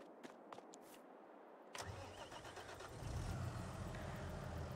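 A tractor engine in Farming Simulator 22 cranks and catches after a short quiet spell, then settles into a steady, loud mid-pitched idle that grows slightly fuller toward the end, with no talking.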